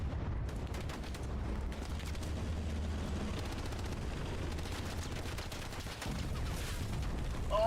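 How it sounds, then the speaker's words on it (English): Rocket explosions in a competitive video game match, distant muffled booms and gunfire rattling under a steady din, fairly faint and continuous. "2 rockets in though."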